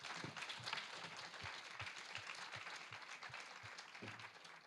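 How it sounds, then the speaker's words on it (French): An audience at a French talk on climate change applauds the panelists after the discussion, a fairly faint, dense patter of many hands clapping that continues evenly for several seconds. "Et je vous demanderai d'applaudir."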